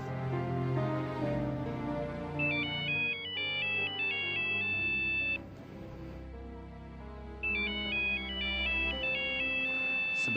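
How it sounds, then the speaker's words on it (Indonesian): Phone ringtone of an incoming call, a loud melodic electronic tune repeating in phrases over a backing track, with a brief pause before it starts again. "aku harus menerima telepon dari Kak Laila dulu"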